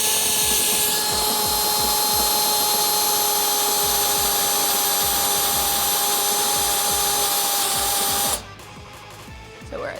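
A step drill bit grinds steadily through a steel Smittybilt XRC rear bumper on a Jeep Wrangler YJ/TJ, a loud continuous whine with a sustained pitch that stops abruptly near the end, leaving quiet handling noise.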